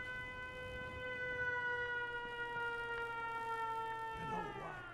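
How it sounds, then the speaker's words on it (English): A settlement siren in Fallout 4 wails steadily at a fixed pitch, fairly faint and continuous, then begins to wind down near the end. "The siren, that's a good defense thing."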